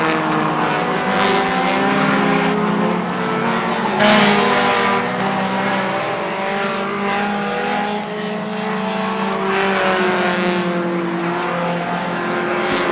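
Race cars roar around a short oval track on the final lap, several engines blaring loudly and continuously with passes swelling and fading, and a commentator talking over the din.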